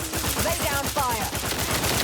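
Rapid, evenly spaced automatic gunfire from The Outer Worlds 2, a steady close stream of shots with a faint tonal whine layered over it and no talk.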